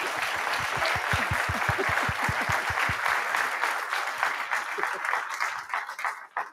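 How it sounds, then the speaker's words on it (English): Crowd applause swells and claps rapidly, with a few louder distinct claps early on, then gradually thins and fades toward the end. "Give him a round of applause."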